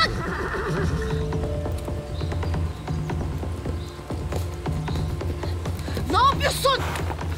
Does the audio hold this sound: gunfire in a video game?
no